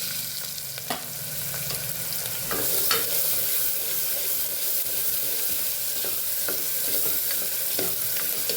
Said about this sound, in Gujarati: તો 5 ચમચી જેટલી હિંગ ઉમેરી દેશું અને ડુંગળી પહેલાં આપણે સાતળી લેવાની છે.